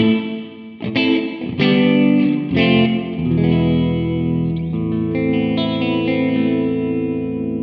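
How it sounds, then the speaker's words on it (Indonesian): Electric guitar played through a Valeton Rushead Max mini amp on its clean channel with reverb added, a few strummed chords ringing out and then sustaining with a soft wash of reverb, loud and close. "Ini mode plus reverb."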